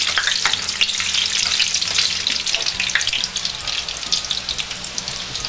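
Nigerian chin chin dough pieces fry in hot oil with a steady, dense sizzle and crackle, loud and close throughout, with no talking.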